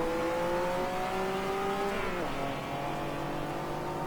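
An Abarth race car engine in the racing video game GT Legends, held at high revs with a steady, buzzing drone that dips briefly as it shifts and then climbs again, loud and continuous with no talk.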